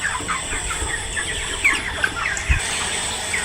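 Broiler chickens in a poultry farm shed give a low, continuous murmur of clucks and scattered brief squawks from a large flock, with a steady background hum.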